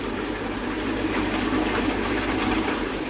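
A water pump set above the water level runs steadily, its constant motor hum mixed with rushing, gushing water as liquid flows through, loud and close with no talk.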